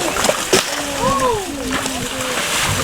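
An alligator splashes loudly in the water during a feeding, with sharp slaps and sloshing close by while people talk and exclaim over it.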